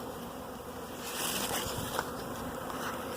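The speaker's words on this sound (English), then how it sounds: "you guys better get out there checking those bees" Honey bees buzz loudly and continuously near a swarm being removed, a dense droning hum that swells slightly partway through, with no voices.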